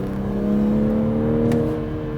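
A 2021 Toyota Supra accelerates on a Vancouver highway, its engine a loud, steady droning hum heard from close by with no pauses or talk.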